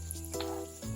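Pitha sizzles and fries in hot oil, a short burst of crackling with soft spoon scrapes as oil is ladled over the top, faint and close.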